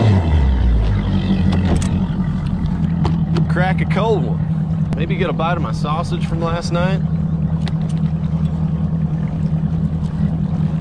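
A low, steady boat engine rumbles at idle throughout, close by, on a bass fishing boat over clear water, while someone talks casually over it.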